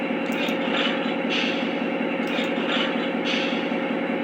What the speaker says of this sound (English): Here's the sound of the couplers.